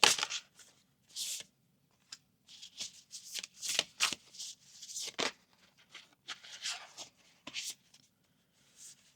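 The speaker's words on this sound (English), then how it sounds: "I'll pull two more cards for clarification." Tarot cards being shuffled and pulled from the deck at close range, quiet riffles and crisp card slaps in irregular bursts with short pauses between, no talking.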